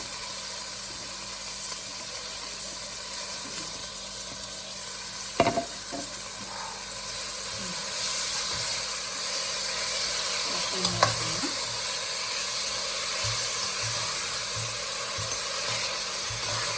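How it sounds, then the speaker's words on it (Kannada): Chopped fenugreek leaves frying in an oil tempering for methi rice, a steady soft sizzle with stirring scrapes and a couple of sharp clinks of a spoon against the pan. "ಒಗ್ಗರಣೆಗೆ ಹಾಕ್ಕೊಳ್ಳೋಣ. ನಾವು ಒಗ್ಗರಣೆಯಲ್ಲೇ ಸ್ವಲ್ಪ ಫ್ರೈ ಮಾಡಬೇಕು"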